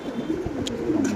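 Pigeons kept for sale by a wholesale seller give soft, low, throaty coos in a short close burst, with no talking.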